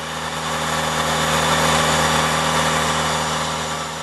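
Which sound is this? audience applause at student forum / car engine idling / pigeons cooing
car engine idling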